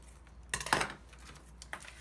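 A sheet of paper for a planner page gets a quick rough cut, heard as one brief, crisp snip-and-rustle close by. Soft room quiet comes before and after it.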